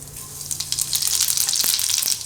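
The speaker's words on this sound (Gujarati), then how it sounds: "તો તેલ આપણું ગરમ થઈ ગયું છે એમાં થોડુંક જીરું નાખીશું આપણે" Cumin seeds sizzling in hot oil for a Gujarati mango and bitter gourd curry, a bright steady crackle and hiss rising as the seeds hit the pan, close and continuous.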